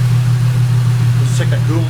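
A Holden L67 supercharged V6 idles steadily with a constant low hum and mechanical whir, close and even throughout, with faint voice-like sounds near the end.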